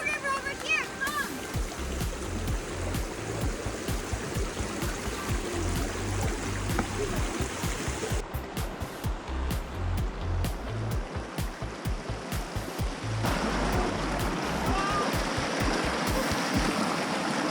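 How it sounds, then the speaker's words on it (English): Small rocky stream flowing and splashing over rocks, a steady broadband rush close by with scattered splashes and footsteps on stones, continuous throughout. "Right now, we're walking on top of the rocks, on top of this little stream."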